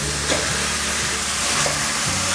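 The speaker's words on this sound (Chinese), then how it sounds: "快速翻炒" Cabbage and shiitake mushrooms are stir-fried in a pan, giving a loud, dense sizzle with quick tossing scrapes, close and continuous.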